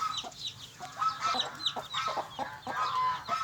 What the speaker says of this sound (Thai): ไก่ไก่ลูกไก่